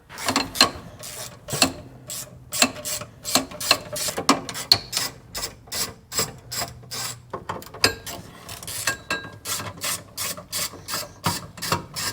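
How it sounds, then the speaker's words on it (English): A 1/4-inch ratchet backs screws out of a Corvair heater blower motor, giving repeated bursts of close, crisp ratcheting clicks with brief pauses between strokes, and no talking. "let me get a 1/4-inch ratchet and get this off"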